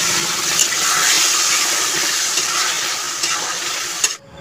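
Tamarind pulp sizzles loudly as it hits hot mustard oil with fried five-spice seeds, a steady hissing fry with a few stirring knocks, cutting off abruptly near the end.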